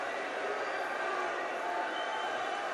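A large crowd of Boy Scouts cheers at a President Trump speech at the 2017 National Boy Scout Jamboree, a broad, even wash of distant voices and applause.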